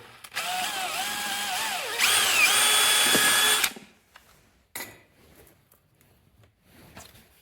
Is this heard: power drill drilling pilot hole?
yes